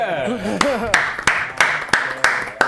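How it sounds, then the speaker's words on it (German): A studio audience on a Swiss game show claps in a steady rhythmic beat, sharp evenly spaced claps about three per second, starting just after a voice speaks. "Jetzt Applaus."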